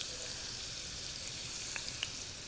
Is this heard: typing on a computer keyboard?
no